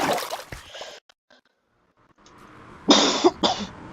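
A person coughs twice in quick succession near the end, loud and close, after a stretch of quiet room noise and a brief earlier burst of sound.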